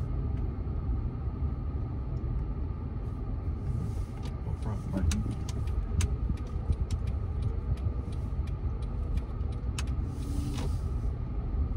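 A car drives along with a steady low road rumble and engine hum inside the cabin, with scattered clicks and rattles and people talking over it.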